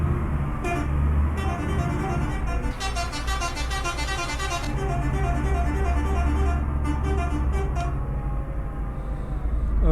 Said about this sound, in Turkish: Özleyenlere gelsin bu kornalar arkadaşlar.